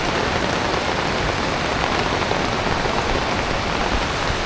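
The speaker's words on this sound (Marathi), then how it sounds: "पाऊस खूप जोरात आला आहे." Heavy rain pouring down outdoors during a crowded Monday temple pilgrimage at Tungareshwar, a dense, constant hiss of drops striking surfaces nearby with no letup and no voices.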